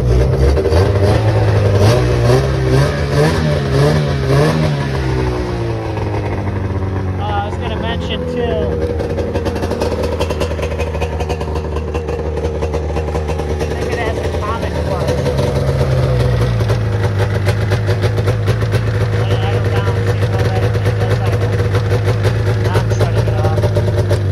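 A 1994 Arctic Cat ZR580 snowmobile engine runs loud and close, rising through drawn-out revs and settling back to a steady idle, with a brief spell of talk over the running motor.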